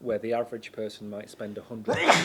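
Someone talks steadily, then a single sharp, breathy sneeze bursts out close to the microphone at the very end.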